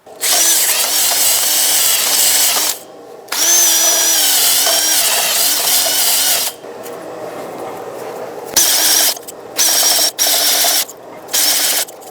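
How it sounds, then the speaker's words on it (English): A power drill with a wire wheel whirs loudly in long bursts, scrubbing parking brake parts on a 2011-2018 Ram 2500, pausing between runs, then ending in several short spins. "I'm going to use a wire wheel on a drill and just clean everything up."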